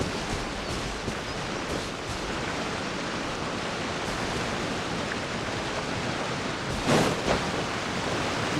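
Steady rushing roar of a waterfall in the Genshin Impact video game, a broad constant wash of falling water that stays even and alone throughout, with no voices.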